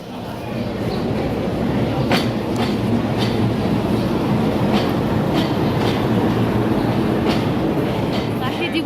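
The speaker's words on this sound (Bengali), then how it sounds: "এটা হচ্ছে লোকাল ট্রেন।" A local train passes through a station, a loud, steady rolling rumble with repeated clickety-clack wheel clatter throughout and faint voices on the platform.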